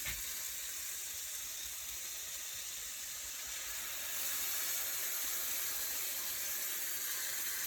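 Tap water pours steadily into a cooking container in a home kitchen while fish is being cooked, a continuous hiss that grows slightly louder and fuller partway through, with no talking.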